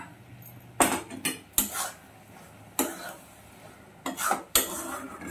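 Metal spoon stirring halwa with cashews in a cooking pot, sharp clanks and scrapes against the pot coming in several separate bursts, close and fairly loud, with no talking.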